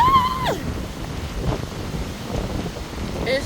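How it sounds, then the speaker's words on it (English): Strong gusty wind on the Ice Age Trail buffets the microphone with a steady low rumble, and a brief high whistling tone sounds near the start. "It's so windy."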